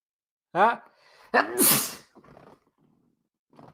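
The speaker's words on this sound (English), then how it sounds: "I'm gonna sneeze on my floor instead." A person gasps, then lets out a loud, forceful sneeze up close, followed by a few quiet breaths and murmurs.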